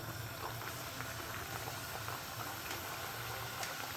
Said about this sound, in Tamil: இப்போ பாருங்கள், இதை நான் எண்ணெயில் போடுறேன்